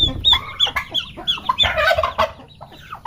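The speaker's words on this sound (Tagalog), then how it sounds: "Pasensya na mga lode na maingay yung ating alagang pabo." Pet turkeys on a banana farm gobble and cluck noisily in rapid, overlapping calls, loud and close throughout.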